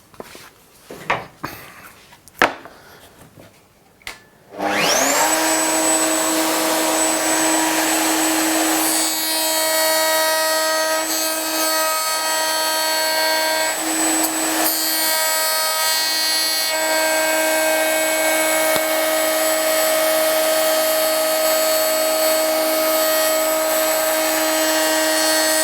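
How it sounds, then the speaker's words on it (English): A router with a bearing trims a wood workpiece along a template on a Triton Workcentre, a loud steady motor whine that starts abruptly after some handling clicks and holds for over twenty seconds with slight changes as the cut proceeds. "now we're ready to come back again to our router, running the bearing up against the template and truing it to shape"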